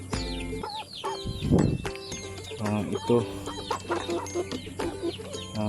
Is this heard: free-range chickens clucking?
yes